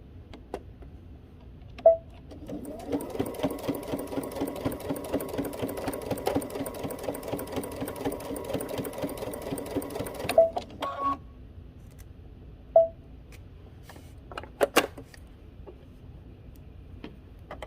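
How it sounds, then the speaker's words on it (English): A sewing machine running an edge stitch on a hoodie, with a fast, even mechanical whir of stitching for about eight seconds, then isolated clicks and taps as the work is adjusted, close and with no speech. "we're going to do an edge stitch here"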